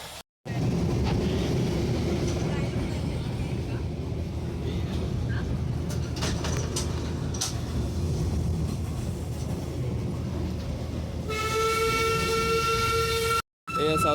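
Darjeeling toy train running alongside a road with passing vehicles, a continuous loud rumble of traffic and rail noise, followed near the end by a sustained horn blast.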